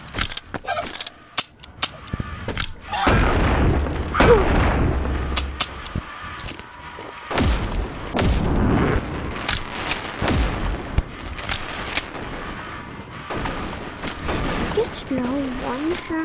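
Shotgun blasts in the VR game Animal Company, a busy run of loud sharp bangs scattered through the clip, mixed with talk and other game noise.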